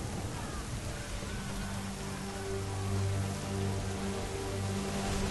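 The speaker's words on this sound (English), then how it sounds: "It's so rainy out." Steady rain hisses through a storm at sea in Assassin's Creed 3, a soft continuous wash with a low droning hum underneath and no speech.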